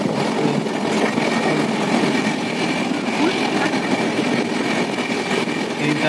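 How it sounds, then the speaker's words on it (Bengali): Steady rumble and rattle of a moving passenger train heard from inside a carriage near Malda, a dense continuous roar with faint rhythmic clatter, loud and unbroken. "এই যে আমরা ট্রেনে আছি"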